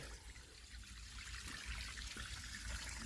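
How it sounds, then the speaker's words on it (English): Water from a hose pipe trickling and splashing over a fake rock waterfall outdoors, a soft steady babble heard close. "I haven't connected the pipes yet, so just testing it with this hose pipe."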